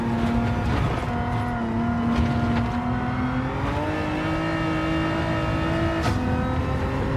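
A Hyundai race car in Gran Turismo 7 accelerates hard, its engine note climbing steadily through the revs as a loud, continuous drone, with brief shifts in pitch and no talk over it.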